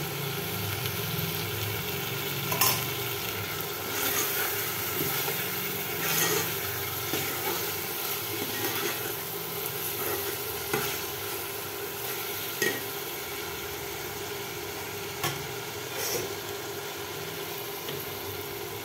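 Chili and cumin powder sizzle and fry in a pan while being stirred, with a steady hiss broken by occasional scraping clinks of the spoon, continuous and moderately close.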